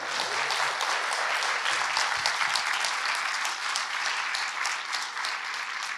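Steady applause from a talk-concert audience fills the room, a dense continuous clapping that holds at an even level throughout.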